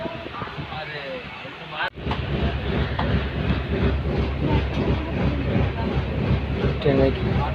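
Passenger train on the Kolkata to Mumbai journey, heard from inside: a steady rumble with rhythmic wheel clatter and hiss, a sudden jolt near the start, and voices talking faintly beneath.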